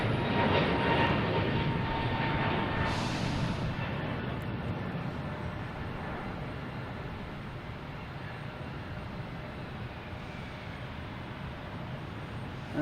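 An Aer Lingus airliner departs Boston Logan bound for Shannon, its broad jet roar loudest at the start and slowly fading as it climbs away, with no talk over it.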